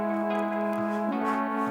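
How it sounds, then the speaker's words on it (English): Two synth parts play together in a song mix, sustained harmonic tones with a chord shift partway through, clean and fairly loud. "those two synth parts together sound like this"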